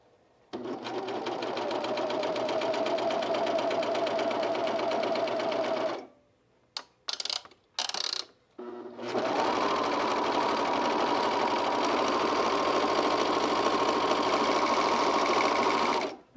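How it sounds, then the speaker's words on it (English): Sewing machine running steadily while stitching a short, dense stitch on a t-shirt, a close, continuous mechanical whir that halts for a few seconds with brief bursts before running again. "So you want your stitch length to be shorter so you get a nice dense stitch."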